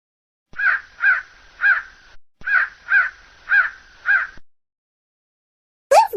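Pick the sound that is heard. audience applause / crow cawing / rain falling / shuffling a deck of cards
crow cawing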